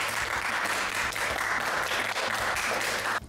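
Audience applause after a Russian interview with a police lieutenant colonel, a dense steady clapping that fills the room for about three seconds before cutting off abruptly.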